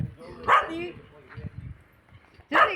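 Barks from a dog in a village setting come as two loud, sharp bursts at the start and the end, with quieter muffled sounds between them, heard close by.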